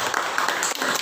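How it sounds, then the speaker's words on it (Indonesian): A group of children clapping together at an Islamic recitation lesson, a brief burst of dense, fairly loud hand claps that stays steady through the whole moment with no talking over it. "Tepuk tangan untuk Mas Fahmi ya"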